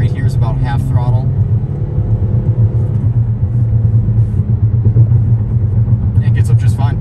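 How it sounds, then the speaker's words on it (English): A 2022 Toyota Corolla Cross engine pulls at half throttle on the road, a steady loud low rumble and drone under someone talking throughout. "this right here is about half throttle"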